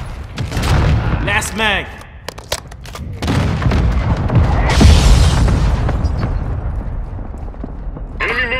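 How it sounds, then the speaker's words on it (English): Mortar strikes burst in deep, booming blasts in Call of Duty: Modern Warfare II, mixed with sharp gunshots and mechanical clicks, while voices speak between the hits. "Hostile mortar striking target."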